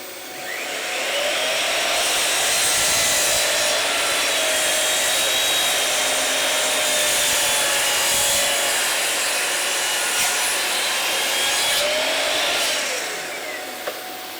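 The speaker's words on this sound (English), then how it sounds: "I know I always sing the praises of that Bosch mitre saw, but it is exceptional." A Bosch mitre saw cuts walnut mitres with a loud, sustained whine that spins up, holds steady for about twelve seconds with a slight wavering pitch, then winds down, with no voices.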